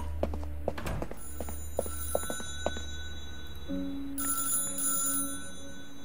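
A telephone rings in the video game Beholder 3, a clear electronic ring over a background of ticking and clopping game sounds, with no talking.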